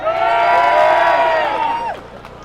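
A large crowd cheers and shouts at a Liverpool city-centre rally on 18 October 2020, a sustained roar of many voices that swells and then fades near the end.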